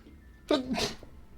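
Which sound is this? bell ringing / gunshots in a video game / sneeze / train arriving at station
sneeze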